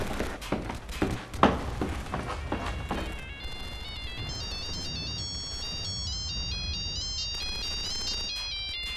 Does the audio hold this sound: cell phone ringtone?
yes